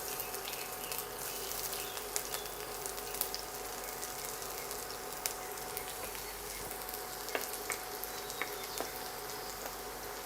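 Small chopped garlic pieces frying in hot ghee on medium heat for a Rajasthani gatte curry: a steady, even sizzle and crackle throughout, close and moderately quiet, with faint scattered pops and no talking.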